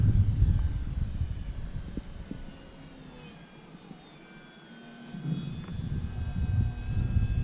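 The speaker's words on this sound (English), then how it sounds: "Let's try taking off one more." An Arrows Bigfoot RC model airplane rolls out for takeoff on a wet, misty morning, its engine whine rising and fading with a dip in the middle and building again toward the end.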